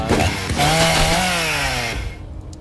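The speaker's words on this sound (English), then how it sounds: "Chainsaw my fucking robot." A chainsaw tears into a robot during a Shadowrun Chronicles battle, its loud, steady motor whine rising in pitch through the cut before dropping away near the end, heard alone without talk.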